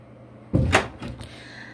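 An interior door closes with a single soft thud, followed by a faint click or two of the latch, near and fairly quiet in a still room.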